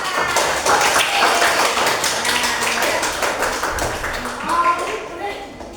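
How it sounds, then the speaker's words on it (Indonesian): A classroom group claps together in a dense, fairly close burst of rapid hand claps that thins out near the end, with a voice briefly heard. "Tepuk tangan"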